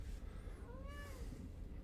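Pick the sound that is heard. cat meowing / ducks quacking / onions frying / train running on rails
cat meowing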